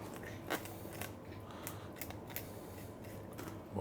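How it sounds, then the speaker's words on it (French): A knife slices along the carcass of a carp while filleting it, giving soft scraping and crunchy cuts with a few sharper clicks, close and quiet. "avec le couteau, on va s'appuyer contre la carcasse pour laisser le moins de chair possible attenante aux arêtes"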